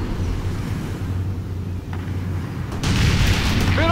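Enemy fire and explosions in the strategy game World in Conflict: Soviet Assault, a continuous heavy rumble of distant blasts and gunfire that swells into a louder boom near the end.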